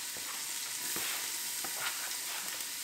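Carrots and onion dropped into hot oil in an Instant Pot, giving a steady, close hiss of frying with faint crackles and a few stirring sounds, no talk.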